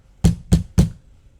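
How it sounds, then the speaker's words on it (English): Knocking on a door: three firm, evenly spaced knocks, close and loud, with nothing else heard. "I can see me and Trey knocking on the door"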